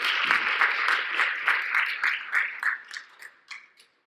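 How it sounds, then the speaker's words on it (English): Audience applause welcoming a speaker to the stage at a professional development conference, a dense burst of clapping that thins into scattered claps and dies away over about four seconds. "Please join me in welcoming with applause for Dr. Byrne."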